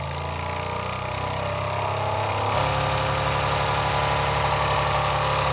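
A Jensen #35 live steam engine runs with a steady mechanical chugging and rumble that grows fuller partway through, continuous and fairly close.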